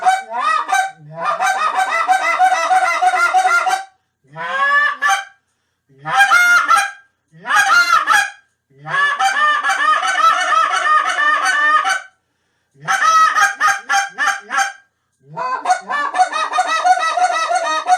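Zink Naughty by Nature goose call blown as a honker: loud, rapid series of goose honks and clucks in bursts separated by short pauses, close and piercing, with no talking.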